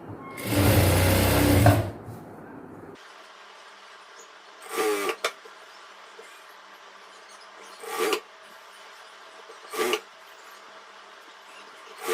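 A sewing machine stitches a chudidhar top with piping, starting with a loud close whirring burst about two seconds long, then a quiet hum broken by three short stitching bursts.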